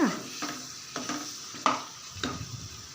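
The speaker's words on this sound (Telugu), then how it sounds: "మరి ఒకసారి బాగా కలిపేసుకోవాలి ఇలా మొత్తం ఒకసారి బాగా కలిపేసుకున్నాక" A spatula stirs a sizzling gravy base for chicken liver in a pan, making several distinct scraping strokes over a soft, constant frying hiss, close and fairly quiet.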